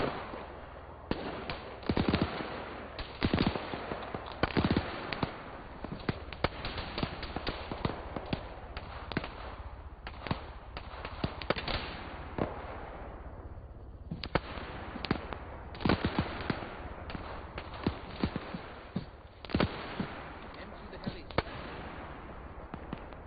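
Gunfire in a military video game, a long stream of distant sharp shots and short bursts popping irregularly. It runs under radio-style chatter.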